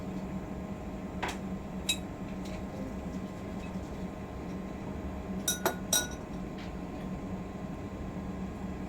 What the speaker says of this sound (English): she's just going to clean the sample bottle